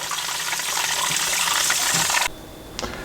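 Water gushing steadily from a filter housing being drained during a filter replacement at home, a loud continuous rush that cuts off suddenly, followed by a brief drip or knock.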